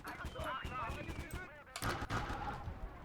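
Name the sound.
20mm gun firing in video game Gates of Hell Ostfront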